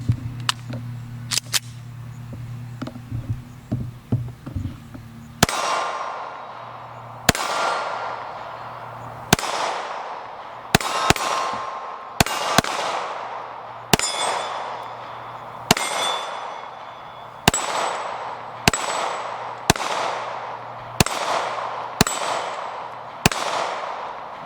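Mossberg MC2C 9mm pistol fired in a steady string of about a dozen loud, close, sharp bangs with short ringing tails, spaced roughly a second apart, with softer handling clatter before the first shot.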